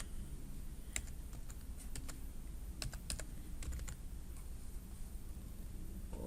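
Faint, irregular clicks of a computer keyboard tap out scattered keystrokes over a low steady background hum, with no talking.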